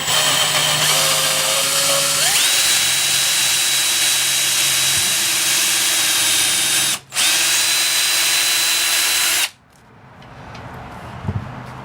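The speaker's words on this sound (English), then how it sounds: "and then I'll pilot drill" A power drill whines loudly and steadily for several seconds, its pitch rising as it spins up, with a brief stop before it winds down, boring a 1/8-inch pilot hole in wood.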